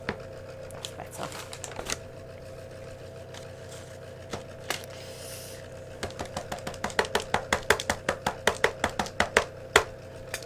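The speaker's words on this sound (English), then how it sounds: "I love that sort of tappy tap noise." Rubber stamps tap down on paper in a quiet, close run of sharp taps, sparse at first and then quickening into a steady rhythmic series toward the end.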